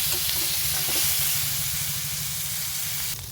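Onions cooking in a pan with peanuts before being ground into badam bata, a steady close sizzle with a few faint stirring knocks early on.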